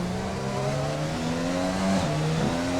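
Formula 1 race cars in the F1 2020 game at the Montreal Grand Prix drone loudly and continuously, with engine pitch climbing through gear changes and another car close ahead, in light rain.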